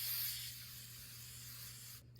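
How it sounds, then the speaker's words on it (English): Morphe Life Proof setting spray gives a close, loud hiss at the start that fades into a softer, steady misting sound and cuts off after about two seconds. "lock everything in place with the Morphe Life Proof Setting Spray"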